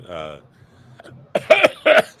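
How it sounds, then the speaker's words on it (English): Two harsh, close coughs come in quick succession after a brief spoken sound. "It's not a sarcastic cough. It's a real cough."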